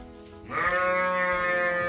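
Sheep ewes bleat loudly and close by in a barn, one long sustained wavering call starting after a brief moment of quieter shuffling.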